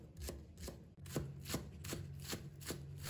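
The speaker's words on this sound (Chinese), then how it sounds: "把它切成葱花" A knife chops scallions on a cutting board while making rice-stuffed siu mai, with about eight sharp, evenly spaced taps close up and alone.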